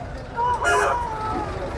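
A single fighting rooster crow rises and trails off at moderate distance, heard over a murmur of background chatter at a Sankranti rooster sale.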